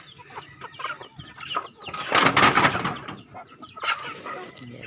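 Chickens clucking on a provincial farm, several birds with overlapping clucks and squawks nearby, a louder burst in the middle, with no speech.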